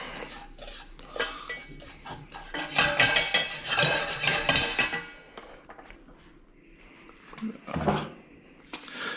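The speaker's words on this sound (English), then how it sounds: "we just want to mix that together well" Macaroni and cheese with butter and parsley stirred in a pot, a metal utensil scraping and clinking against the pot in close, busy bursts that ease off and pick up again near the end.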